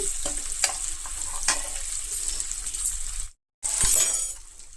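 Onions and green chillies crackle and sizzle in hot oil with scraping stirs, a brief silence, then a louder burst of frying.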